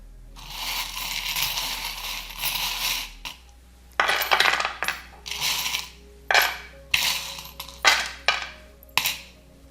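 Metal divination charms shaken and tossed onto a table, a long rattling jingle of small pieces in a container followed by about seven distinct clattering drops, each a bright metallic clink, close and loud.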